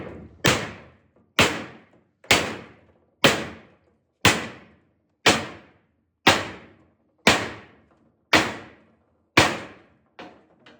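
Clamps are set onto a metal welding fixture table with a regular series of about ten sharp metallic bangs. They come roughly once a second, each loud and close with a ringing decay.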